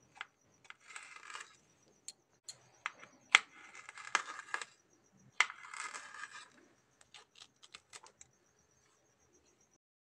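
Vegetables being cut with a knife into thin, long strips for vegetable chow mein, heard as a quiet run of irregular dry taps and slicing scrapes in uneven bursts, with no talking.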